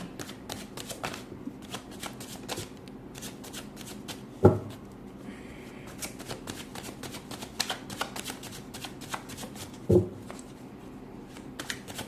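Tarot cards shuffled steadily in the hands during a Hindi tarot reading, a soft continuous riffle with two sharper slaps of cards set down, close and fairly quiet, no talking.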